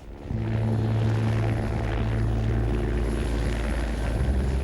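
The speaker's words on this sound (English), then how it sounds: "they're about to start filming from the helicopter" A helicopter flies overhead during filming for a show, its rotor and engine forming a steady, loud drone that holds throughout after a brief quieter start, with no talk.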